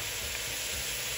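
Hydrated mushrooms sizzle steadily in a hot pan during a quick stir-fry, a close, even crackle that runs briefly with no talking.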